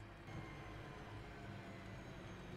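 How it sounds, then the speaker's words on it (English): Noisy train engine in Train Simulator Classic on a Birmingham route, a low, steady rumbling drone with a faint tonal hum, continuous and quiet for a couple of seconds. "It's a noisy train."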